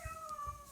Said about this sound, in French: Ça, c'est le chat qui vous dit bonjour.